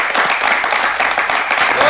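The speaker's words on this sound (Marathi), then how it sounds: "टाळ्या थांबल्या नाही पाहिजे बरं का" An audience at a spoof show's prize announcement keeps up a dense run of clapping and applause, loud and continuous, with a voice faintly mixed in.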